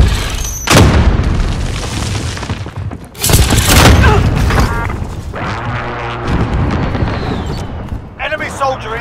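Gunfire and heavy explosions from the video game Call of Duty: Modern Warfare, loud booms and bursts of shots crowding the whole stretch, with game voices calling out over the battle.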